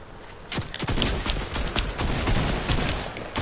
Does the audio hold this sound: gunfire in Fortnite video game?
yes